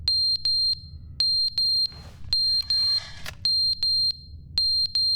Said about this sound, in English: Is that the smoke alarm?